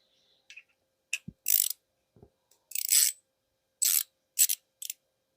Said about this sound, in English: I usually just start them in by hand and then finish them off with the ratchet